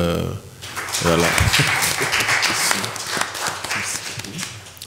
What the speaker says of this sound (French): vous demander d'abord d'applaudir